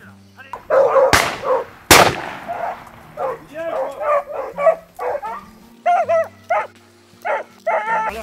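Hunting dogs bark and yip repeatedly during a hunt in France, close and loud in uneven bursts, with two sharp gunshot-like cracks early on.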